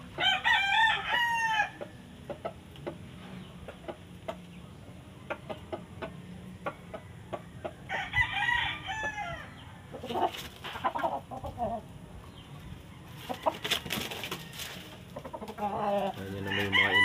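A broodcock rooster, a breeding gamefowl, crows loudly several times, near the start, midway and at the end, with scattered clucks and farmyard sounds in between.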